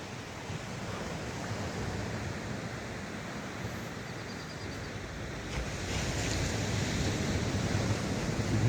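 Ocean waves wash onto Mystic Beach on Vancouver Island in a steady broad hiss with wind noise on the microphone, the surf swelling louder in the final seconds.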